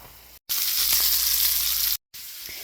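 Breaded pike fillet sizzles in a hot pan with a loud, steady fry, broken by two brief silent gaps.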